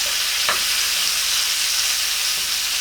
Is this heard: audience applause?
no